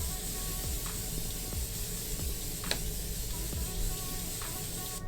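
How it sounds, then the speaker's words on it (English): Morphe makeup setting spray misted over a finished face, a steady soft hiss running continuously for several seconds, close and even, with faint clicks behind it. "I'm just gonna add some setting spray. I have this one from Morphe."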